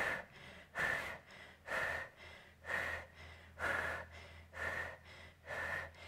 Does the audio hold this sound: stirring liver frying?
no